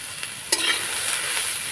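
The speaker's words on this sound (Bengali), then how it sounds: "এবার সবজিগুলোকে নাড়াচাড়া করে আমি ভেজে নেব।" Vegetable patty filling with salt and turmeric is stir-fried in a pan. A sharp scrape of the spatula cuts into an even, close sizzle that carries on for a moment afterward.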